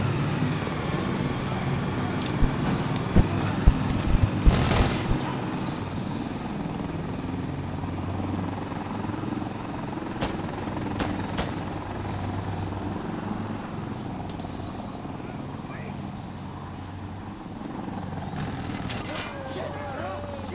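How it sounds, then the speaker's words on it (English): A helicopter in the video game Insurgency: Sandstorm drones steadily at a distance, its low rotor rumble continuous, with a few sharp bangs and brief noises over it. "Wait for the helicopter to go and then move up to objective."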